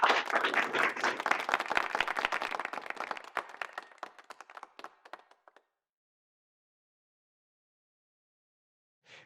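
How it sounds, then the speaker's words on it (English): Audience applause at a renewable energy forum, a dense burst of clapping that thins out over about five seconds into scattered claps, followed by silence and a brief faint noise at the very end. "And I think they deserve a round of applause."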